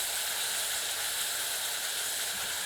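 Tamarind paste sizzling hard in hot oil with cumin, fennel and nigella seeds, a steady close-up hiss that stays loud and unbroken throughout with no talking.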